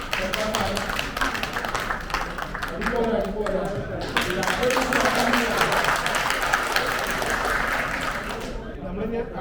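At a bakers association state meeting, an audience claps hands in a sustained burst of many overlapping claps, close and lively, continuing for several seconds before thinning out at the end.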